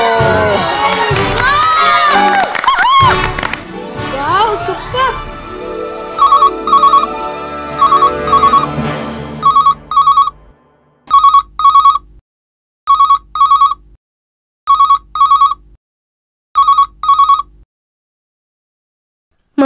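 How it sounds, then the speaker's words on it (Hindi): A telephone bell rings loudly in repeated double bursts with short pauses, following a noisy stretch of children shouting and cheering in an Indian TV serial household scene. "मम्मा का फोन होगा।"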